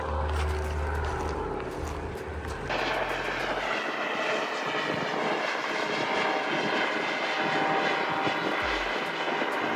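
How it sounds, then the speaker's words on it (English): A float plane's propeller engine roars loudly and steadily as it takes off from a river, the engine note shifting partway through, with faint people talking underneath. "2 float planes kept taking off from the water, circling back and doing it all over again"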